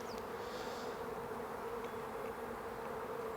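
Honey bees hum steadily across a brood comb holding their queen, a calm and healthy colony, their buzz a dense, even drone that stays constant throughout with no voices.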